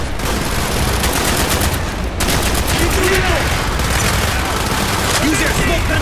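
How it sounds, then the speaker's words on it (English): Mortar and gunfire in the video game Call of Duty Black Ops, a loud, dense barrage of shots and booms that continues throughout, with shouted voices mixed in. "Firing mortar!"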